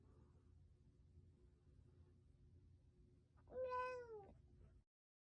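A sleepy cat purrs with a low, steady rumble, then gives one clear, drawn-out meow close by before falling quiet.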